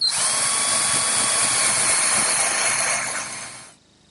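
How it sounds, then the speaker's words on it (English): A power drill spins a 1/4-inch brad point bit about half an inch into wood, a loud steady high whine for several seconds before winding down, with no talking. "So now I can take this 1/4-inch brad point bit and drill in about a 1/2 inch."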